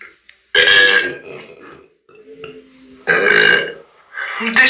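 Loud, drawn-out cartoon belches in a Simpsons burping contest: two long, rasping burps a few seconds apart, with a third starting at the end, separated by quieter voiced sounds.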